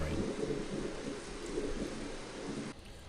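Ambient rain loops in a Sauerbraten map as a steady hiss and low rumble, soft and continuous, then cuts off abruptly near the end.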